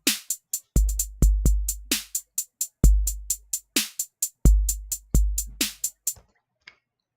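Drum pattern generated in Ableton by converting audio to drums: a busy, dry electronic beat of sharp clicks and hi-hat ticks with deep booming 808-style kicks, playing alone at a steady tempo for several seconds.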